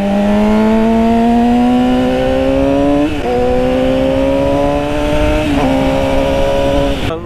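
A 2008 Yamaha R6 sport motorcycle revving loud and close, its engine note climbing steadily in a high-pitched, smooth whine, with brief dips and shifts around three and five and a half seconds before rising again.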